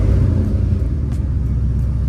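A 1998-2002 Camaro or Trans Am Firebird engine runs close by with a steady, loud low rumble and a slight rise in revs, without voices.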